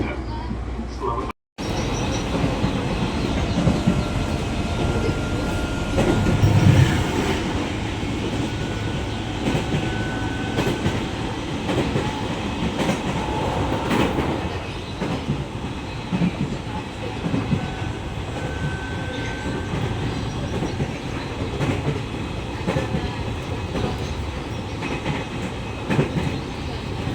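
A commuter train running between Bekasi and Cikarang, Indonesia, rumbles steadily with rattling wheels and carriage noise throughout, and an Indonesian loudspeaker announcement plays over the din.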